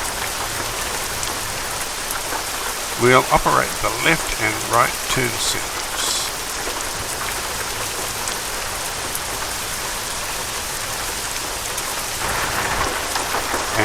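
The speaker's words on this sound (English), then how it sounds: "Man, that rain is heavy, isn't it?" Heavy rain pours steadily in the truck-driving game American Truck Simulator, a dense continuous hiss that stays loud throughout, with someone talking briefly over it early on.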